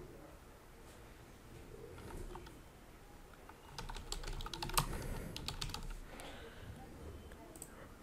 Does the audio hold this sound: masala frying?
no